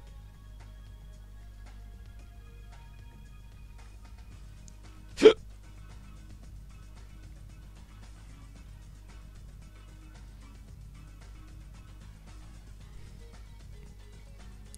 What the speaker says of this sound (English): I've got hiccups, slight hiccups